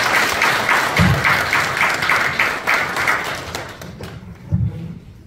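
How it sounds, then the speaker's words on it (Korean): Sustained audience applause at a Korean environmental association's year-end general meeting and party, steady dense clapping with a few heavier thumps, fading out toward the end. "우리 큰 박수 다시 한번 부탁드리겠습니다."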